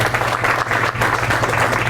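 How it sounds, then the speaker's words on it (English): An audience at a Bassmaster high school fishing event applauds an angler, with steady, dense clapping from a crowd close by. "Cliff Prince, let's hear it for him."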